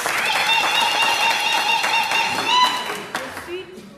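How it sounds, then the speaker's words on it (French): Audience applause at a school alumni association general meeting, a brisk patter of clapping from a crowd with voices mixed in, fading out near the end. "applaudissons pour nous"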